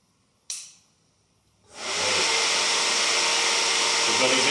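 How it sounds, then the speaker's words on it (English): Ignition switched on for a Ducati Panigale V2 motorcycle being rebuilt after a crash: a brief sharp click, a pause, then a steady loud whirring hum that builds and holds, close by. "we should hear the fuel pump go, and we should hear probably some of the ignition actually activate"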